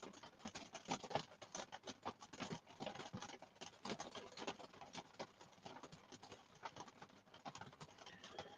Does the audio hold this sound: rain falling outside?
yes